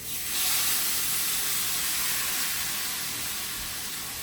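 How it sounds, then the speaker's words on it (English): Shrimp dropped into hot curry give off a steady, bright sizzle that rises quickly and then holds as a continuous hiss, close and fairly loud, with no speech. "Now, I want to throw in my shrimp."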